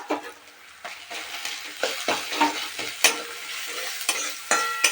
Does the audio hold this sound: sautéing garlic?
yes